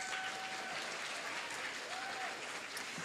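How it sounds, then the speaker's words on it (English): Students applauding their families and friends at a mayor's student awards ceremony, a dense, steady round of clapping filling the room, with a faint tone sliding through briefly. "Students, I want you to give them a round of applause."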